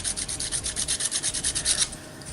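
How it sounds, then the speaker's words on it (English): Quick back-and-forth scuffing roughens a smooth acrylic surface before gluing, about fourteen rhythmic rasping strokes at close range over roughly two seconds, then stopping. "anytime I'm using glue on anything that's smooth, I like to scuff up the surface"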